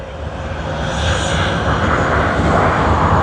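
A Cathay Pacific airliner on the Hong Kong to Sydney service arrives at Sydney Airport with a loud, steady engine roar that builds slightly as it nears, heard alone without talk.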